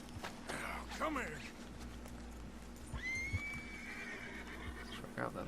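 A horse in Red Dead Redemption II whinnies sharply near the start over steady low background noise, followed by quieter clip-clopping and a long drawn-out tone.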